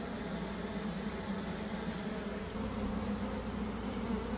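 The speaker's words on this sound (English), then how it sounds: "Look how fast the bees are coming out" Honey bees swarm out of a beehive being removed from a house balcony, a dense steady buzzing hum close by that holds constant throughout with no talking.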